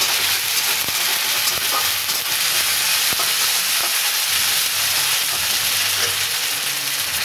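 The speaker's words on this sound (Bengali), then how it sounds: "আদা রসুনের পেস্টটা দিচ্ছি।" Ginger garlic paste frying with browned onions in a pan for a bhetki fish curry, a loud, continuous close sizzle with faint scraping stirs and no talk.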